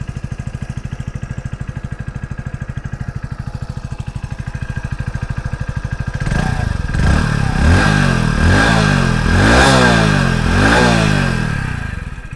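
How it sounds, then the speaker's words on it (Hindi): A 2025 Hero Splendor Plus Xtec motorcycle engine idles with a steady, even putter, then revs up loudly in repeated rising and falling throttle blips, recorded close to the bike. "इंजन का साउंड सुना देता हूँ"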